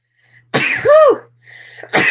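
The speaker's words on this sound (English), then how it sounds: "Ooh, I gotta sneeze." A single sharp sneeze bursts out close by, with a rising-then-falling voiced 'achoo' shape, followed by a soft breathy exhale.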